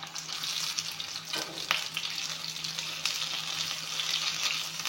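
Rice pakoras frying in hot oil give a steady, close sizzle that runs throughout, with a couple of brief scraping stirs partway through.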